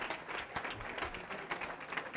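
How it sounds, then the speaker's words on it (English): Scattered applause from an audience at an awards event for a woman being honoured, fairly faint and distant, with individual claps showing through a soft, steady wash. "Give her a big round of applause."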